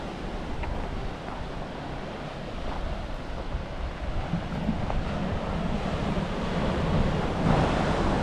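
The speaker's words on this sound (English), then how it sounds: "That's the ocean." Ocean waves and surf on a secluded Tenerife beach in the Canary Islands, a steady broadband wash with wind rumble that swells slightly toward the end, heard from a distance with no talking.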